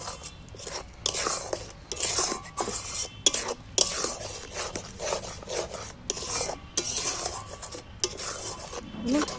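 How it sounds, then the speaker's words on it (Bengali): Spices being stirred and fried in a pan for an egg dish, a continuous close scraping and rasping of a utensil against the pan in quick irregular strokes, with faint sizzling underneath. "এবার আমি সব মশলাগুলো নিয়ে ভালো করে কষাতে থাকবো।"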